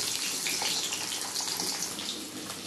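New potatoes fry in hot oil for aloo dum, giving a close, steady hiss and dense crackle that stays loud throughout, easing slightly at the end.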